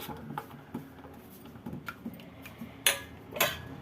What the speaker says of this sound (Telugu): పది నిమిషాల తర్వాత మనం ఒకసారి అయితే బాగా కలిపేసుకుని